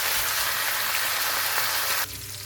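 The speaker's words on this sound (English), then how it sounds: "I want to bombard it with flavours right at the end with that butter. And I'm just going to baste it in that for a couple minutes." A rack of lamb sizzles in hot butter with herbs while being basted, a loud steady crackling hiss that drops abruptly quieter near the end.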